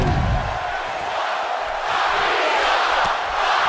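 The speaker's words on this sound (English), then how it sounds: "this El Paso crowd is doing everything in their power to blow the roof off this place" Arena crowd in the WWE 2K18 wrestling game during a fatal four-way match in El Paso, a steady loud roar of cheering and yelling that holds throughout without pause.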